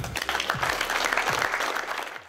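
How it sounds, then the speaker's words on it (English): Applause from an audience at a talk, a dense, fairly loud burst of clapping sustained for a couple of seconds, then tailing off slightly at the end. "Clap it up."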